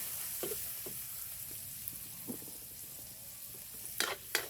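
Beans stir-fry in a pan with a soft, continuous sizzle. A few scrapes and clinks from stirring come through, and two sharper knocks arrive near the end. No one speaks.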